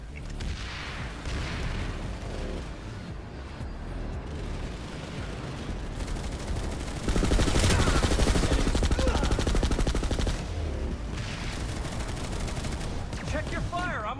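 Heavy gunfire rattles through a PlanetSide 2 firefight, steady bursts of automatic fire and booms that grow denser and louder midway, with a voice murmuring underneath.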